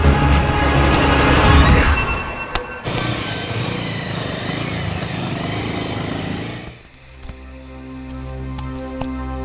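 A motorcycle engine runs loudly up close, a broad rough roar that cuts off sharply about two-thirds through, leaving a quieter low hum.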